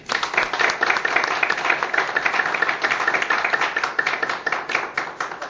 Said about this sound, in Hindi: तो आप इस क्लब में एंट्री होने के लिए एक जोरदार तालियां बजाएं।